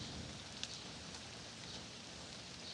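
Light rain falls steadily beside a garage fitted with micro mesh gutter guards, a soft continuous patter with no talking, while a faint rumble of distant thunder sits low underneath.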